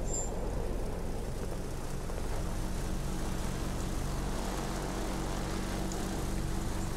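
A bomber's propeller engine in World of Warplanes drones steadily and evenly throughout, a constant mid-loud hum with no talk.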